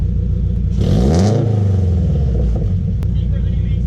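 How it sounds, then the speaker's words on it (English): Subaru BRZ fitted with a Tomei unequal-length header and front pipe, giving one quick, loud engine rev that swells and falls back to a rumbling idle, with people talking nearby. "quick rev"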